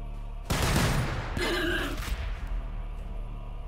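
A volley of gunfire from a battleline squad in Warhammer 40,000: Battlesector, a dense burst of shots followed by a second rattling salvo, moderately loud and then fading.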